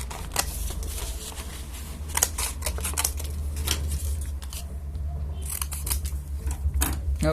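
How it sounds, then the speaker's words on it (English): Scissors snip out square pieces of paper for a puppet, a close run of crisp cutting clicks and paper rustles with no one talking. "Let's cut out 2 square pieces right now."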